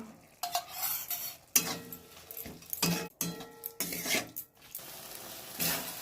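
A utensil stirs banana flower curry thickened with rice flour in a pan, with irregular scraping, clinking against metal and a soft sizzle underneath, all close by.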